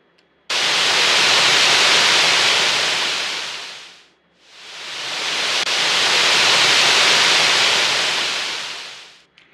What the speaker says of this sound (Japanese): こうして波が押して引くような海の音というふうなのができました